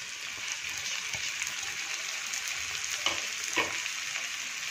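Onion sautéing in a pan with finely chopped capsicum and tomato, a steady close sizzle and fry with a few soft stirring clatters, no talking.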